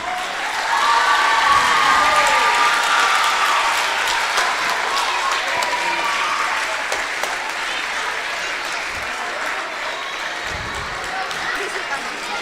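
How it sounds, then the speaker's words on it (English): Loud, full applause from a congregation at a Sunday temple feast, honoring a child for perfect attendance. Dense clapping swells quickly and holds steady for over ten seconds, with a few cheers and voices mixed in. "give the big round of the applause for the Advait Maheshwaran"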